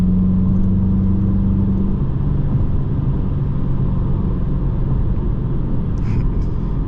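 A Dodge Challenger R/T's engine rumbles loud and deep from inside the car as it accelerates, a steady heavy drone with a low throbbing tone.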